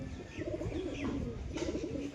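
A pair of Giribaz pigeons coo close by, their low rolling calls repeating in quick, overlapping phrases with no talk over them.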